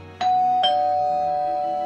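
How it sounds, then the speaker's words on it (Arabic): A two-note ding-dong doorbell chime rings once at a house door, clear and close, the second tone ringing out and slowly fading with no talk over it. "بتدق جرس الباب"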